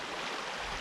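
A river near the Artlish Caves on Vancouver Island rushes in a steady broadband wash of flowing water, moderately close and continuous, with no voices.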